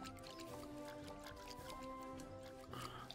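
Watering pumpkin seeds in a farming video game, with soft dripping and splashing liquid sounds running under gentle background music and a brief burst of splashing near the end.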